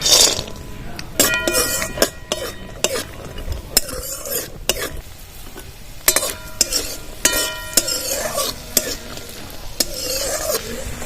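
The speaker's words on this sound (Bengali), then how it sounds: "কটা কাঁচা বাদাম নিয়েছি এবার তেলের মধ্যে ছেড়ে দেবো" Raw peanuts frying in mustard oil in a kadai crackle softly beneath repeated metallic spatula scrapes and clinks against the pan, coming in irregular bursts up close, with no talking.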